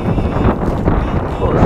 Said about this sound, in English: Might not hear me mate in a minute with the wind